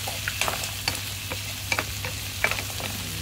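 Shrimp and clams sautéing with garlic and onion in a pan, a soft, steady sizzle punctuated by irregular light clinks and scrapes of stirring, close but fairly quiet, with no voices.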